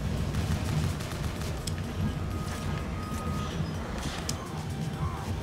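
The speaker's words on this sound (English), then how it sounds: "He was just hanging out and boom. Grenade launcher." Grenade launcher blasts and explosions in Bionic Commando Rearmed 2, a continuous rumbling barrage of low booms and crackles with scattered sharper pops over game music.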